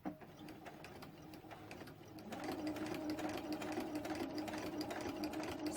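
A sewing machine stitching in the ditch on quilt binding at a 2.5 stitch length, a steady fast mechanical whir and rapid ticking that picks up slightly in speed and loudness partway through.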